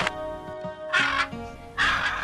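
Parrots squawking harshly from inside a bag in an animated fairy tale, a few loud raspy bursts separated by short gaps, close and with no speech.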